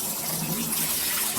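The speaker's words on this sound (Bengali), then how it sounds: "ডালগুলো আমার ধোয়া হয়ে গেছে" Lentils are rinsed in water, a close steady wash of swishing and splashing liquid that lasts throughout without pause.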